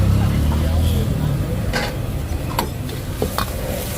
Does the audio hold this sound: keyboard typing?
no